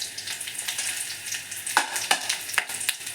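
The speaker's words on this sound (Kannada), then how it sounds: "ಮತ್ತು ಈ ಐಟಮ್ಸು ಇದನ್ನು ಕೂಡ ನಾನು ಇದಕ್ಕೆ ಸೇರಿಸ್ಬಿಟ್ಟು ಫ್ರೈ ಮಾಡ್ತಾಯಿದ್ದೀನಿ ಎಲ್ಲವನ್ನು ಜೊತೆಗೆ" Curry leaves and spices frying together in hot oil for a false trevally fish curry, a steady sizzle broken by sharp crackles and pops as the leaves spit.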